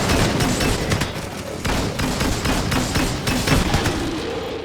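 Continuous heavy gunfire and booming blasts in the video game Disintegration, a dense, loud barrage of rapid shots with no talking.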